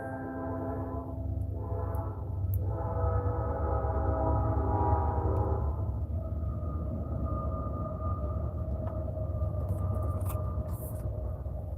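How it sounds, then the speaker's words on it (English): A train passes with a steady low rumble and wheel rattle, its horn sounding in long, droning chords that fade after a few seconds, leaving the rolling noise continuing alone. "There's the train for Whiskey Creek."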